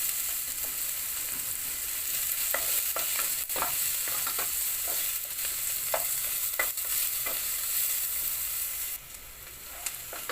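Onion fries in vegetable oil in a pot, with a continuous close sizzle and repeated scraping stirs throughout.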